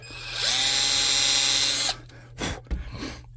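A high, steady whine of a small power drill boring through a plastic miniature runs for about a second and a half, then cuts off, followed by a few soft knocks and handling noises.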